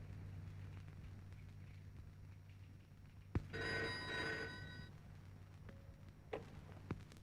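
A telephone rings with an incoming call, one short electronic ring burst standing out over a quiet background hum, with a couple of faint clicks afterwards.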